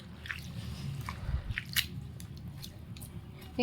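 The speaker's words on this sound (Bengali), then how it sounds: "যতবার ধুচ্ছি তিনবার ধোয়া হয়ে গেল এটাকে নিয়ে তিনবার হয়ে যাবে ততবার কালো বেরোচ্ছে" Wet cloth being washed and squeezed by hand, dark dyed water wringing out of it, with soft squishing and dripping at close range, fairly quiet and without talk.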